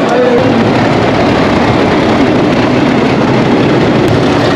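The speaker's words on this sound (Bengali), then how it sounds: "আমাদের ট্রেন প্ল্যাটফর্মে ঢুকে গেছে" A long-distance passenger train rolls into a crowded Indian station platform during the Puja holiday, a steady loud low rumble of wheels and engine filling the whole stretch without letup.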